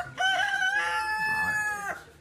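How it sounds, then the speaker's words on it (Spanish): A rooster crows once at the in-laws' house among chickens, a drawn-out, strongly tonal call rising and holding for nearly two seconds, close and clear over quiet background. "Ay, ya están las gallinas arriba ya."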